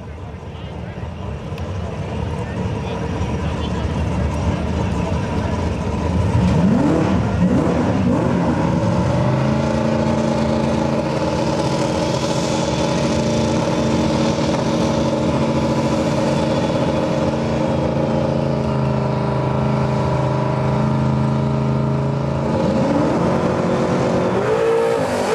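Mustang drag radial race cars thundering down the strip at a drag racing event, a loud sustained engine roar that swells and holds with rising gear pitches, under a track announcer's commentary.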